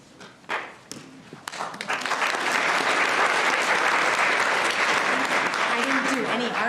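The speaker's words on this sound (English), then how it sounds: "thanks for the applause" An audience at a school district board of education meeting breaks into applause after a few thumps, and the clapping swells into a steady, full round while a voice speaks quietly underneath.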